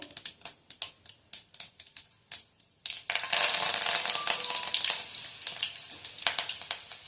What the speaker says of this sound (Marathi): आता आपण ह्यामध्ये 1 चमचा एवढी मोहरी घालायची.